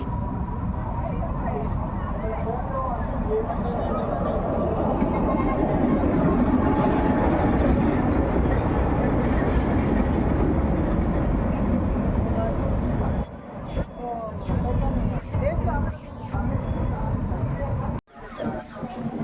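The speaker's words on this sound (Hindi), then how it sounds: "तो गैस सामने मेन लाइन पर आ रहा है मीटर गेज का YDM4।" A metre gauge YDM4 diesel locomotive rolls along the main line at Phulad station, giving a loud, steady engine rumble and wheel noise that drops away briefly near the end before resuming.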